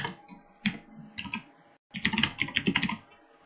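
Clicky keystrokes on a computer keyboard as an email address is entered into a form, sounding in quick irregular bursts, close and fairly loud, with a brief pause midway before a faster run of typing.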